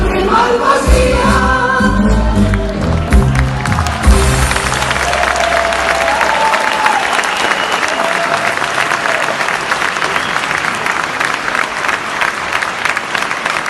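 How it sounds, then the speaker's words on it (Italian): An audience at a live Italian dialect music performance breaks into loud, sustained applause and clapping. Musical tones fade out in the first seconds, leaving a steady wash of hands. "ancora un applauso"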